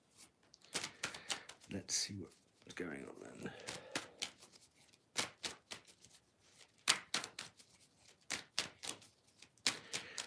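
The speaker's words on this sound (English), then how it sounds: "Let me just give these a bit of a shuffle." A deck of tarot cards is shuffled with repeated crisp riffling bursts separated by short pauses, while a person talks quietly in between.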